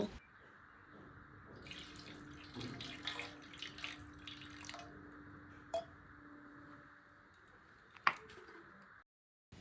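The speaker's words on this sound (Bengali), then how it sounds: "বড় গোপাল সোনাকে স্নান করানোর পর এবার ছোট গোপালকে স্নান করিয়ে নেব।" Water poured and trickling in a basin while a small Gopal idol is bathed, soft splashing and running water with a few clinks, faint and close, ending in silence.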